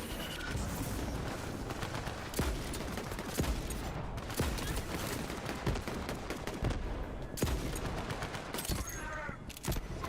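Rapid video game gunfire, sharp shots and short bursts popping steadily throughout over a dense, busy background of game noise.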